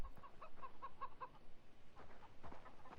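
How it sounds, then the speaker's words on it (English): A video game chicken clucks in a quick run of short, quiet calls, followed by a few softer clucks and rustling. "Some chickens."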